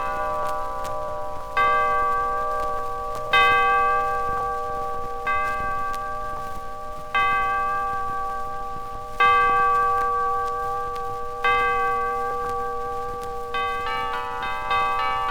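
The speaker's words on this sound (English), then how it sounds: "And then suddenly the bells started ringing." Large bells ring repeatedly in a slow, steady sequence, each strike blooming into a long resonant tone that decays before the next, loud and with no talking.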